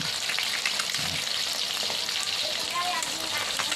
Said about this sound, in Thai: สวายเดียวทอดนะครับ